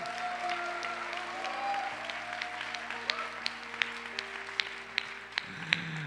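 A church youth congregation at a candlelight service claps for a member leaving for the army, a steady crowd applause under held organ-like tones, with some louder individual claps standing out near the end.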